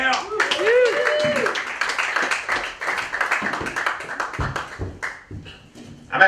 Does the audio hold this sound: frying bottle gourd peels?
no